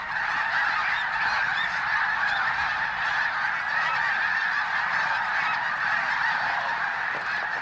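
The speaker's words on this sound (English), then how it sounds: "the calls of the snow geese rise to a deafening roar" A dense flock of snow geese honks all at once in a continuous, loud, roaring chorus that never lets up, the calls overlapping into one steady wall of sound at a wintering pond.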